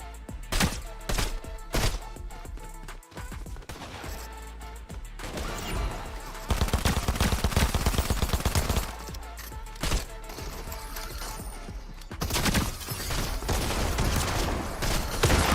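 Rapid bursts of video-game gunfire, a long string of sharp repeated shots in clustered volleys that grow denser and louder midway, with no voices.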